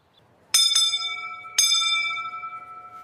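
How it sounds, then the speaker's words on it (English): A school bell rings out close and clear, struck three times in quick succession, each strike leaving a long, bright, slowly fading tone. "The bell is ringing!"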